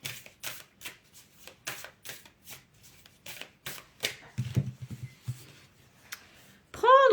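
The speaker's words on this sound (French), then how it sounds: "Je vais te tirer une autre carte quand même." Cards being drawn and flipped from a deck during a tarot-style reading, a run of soft, quick papery snaps and slides close by, with a little quiet handling in between.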